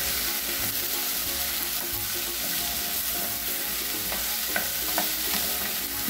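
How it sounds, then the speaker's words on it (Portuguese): Okra and chicken frying over high heat while being stirred continuously, a constant loud sizzle with occasional spoon clicks against the pan. "Eu vou mexendo aqui, ó, até soltar toda a baba."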